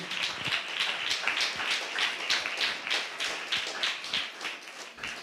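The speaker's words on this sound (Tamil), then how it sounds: "உங்கள் கை தட்டி, தலைக்கு மேலே கூட கை தட்டி" A church congregation claps hands together, some raising them above their heads, in a brisk, roughly steady rhythm of many overlapping claps at moderate distance, fairly soft overall.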